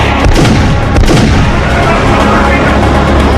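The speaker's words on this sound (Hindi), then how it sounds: "पूरा इलाका गोलियों की आवाज से गूंज उठा।" Rapid, loud gunfire during a police encounter with gangsters in Kolkata, repeated sharp cracks and booming reports echoing continuously, dense and close, with no pauses between shots.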